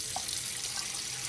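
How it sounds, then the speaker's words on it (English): A household tap left running, with a steady broadband wash of water flowing into a sink at close range, continuous and fairly loud with no voices. "So, okay, so I turned my water on."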